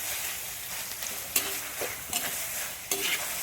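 Onion and tomato sautéing in a pan for a village-style chicken curry, a steady close sizzle with a few sharp stirring scrapes, no talking.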